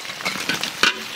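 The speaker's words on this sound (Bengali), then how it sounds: "এখন আমরা দিয়ে দেবো আদা রসুন, কাঁচা লঙ্কা," Ginger, garlic and green chili hit hot oil for a stingray fish curry cooked outdoors for village people, giving a steady crackling sizzle with stirring scrapes and one sharper burst near the end.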